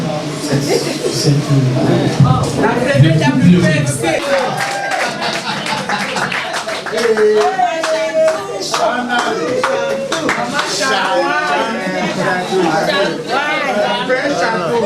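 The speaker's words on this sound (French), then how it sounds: "on applaudit." An audience claps along at a birthday celebration, a dense patter of hands mixed with chatter and voices, lively and close throughout.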